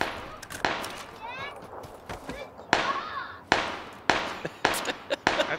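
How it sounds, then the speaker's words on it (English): Gunfire in the video game PUBG during a squad match: repeated sharp shots in bursts and single cracks, with whooshing bullet sounds between them and players talking throughout. "That's who they were shooting at."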